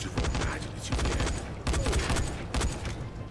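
Gunfire in the zombie survival game Dying Light: repeated bursts of rapid automatic shots, loud and close, separated by brief pauses.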